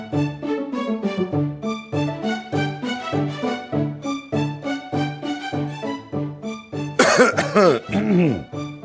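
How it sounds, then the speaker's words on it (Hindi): Repeated short bursts from a voice in a comic Pakistani TV drama, rhythmic and tonal like exaggerated coughing or throat clearing, closing with a harsher, louder bout near the end. "ओहो तुम्हें तो खांसी हो रही है"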